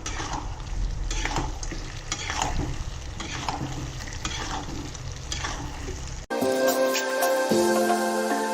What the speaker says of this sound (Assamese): আৰু অলপ ভাজি ল'ম এতিয়া বেছি ফ্লেমত দি পেলাই